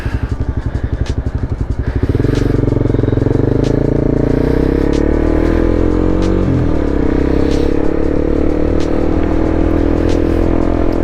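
Motorcycles ride past outside with a close, loud engine roar. A rough idling throb swells into a steady, sustained drone that shifts in pitch as the bikes pass, with no talking over it.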